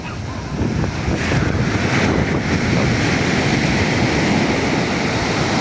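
Big ocean waves crash and surge at Matnog port, a loud continuous wash of surf and wind roar filling the whole stretch with no speech.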